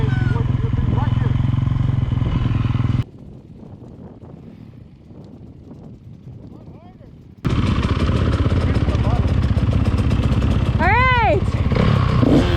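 Dirt bike engine idling at low revs with the clutch held near engagement during a beginner balance drill, a steady loud rumble that drops quieter midway and then returns, with wind noise over the mic.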